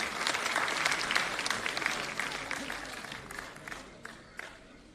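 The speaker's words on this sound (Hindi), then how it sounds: "सभी तालियां बजाकर स्वागत करें बाबा जी का।" An audience at a BJP membership drive launch claps to welcome Baba Balaknath, a broad wash of many hands applauding steadily, fading gradually, with some voices mixed in.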